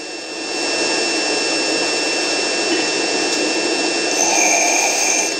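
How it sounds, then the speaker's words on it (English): A DJI Mavic Pro drone in flight, a steady high-pitched whine of its motors and propellers holding close and constant, alone without talk. "This is just a little test flight. My first little flight with this drone."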